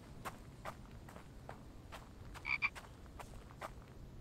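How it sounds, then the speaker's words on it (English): Frogs croak repeatedly in the survival video game The Infected, sharp rhythmic calls recurring about every half second over a low ambient bed, with one louder pair of croaks partway through. "so we got the frogs"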